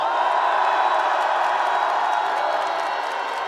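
A large outdoor political rally crowd applauds and cheers during a speech about the constitutional court, a loud, dense roar of voices and clapping that sustains evenly throughout.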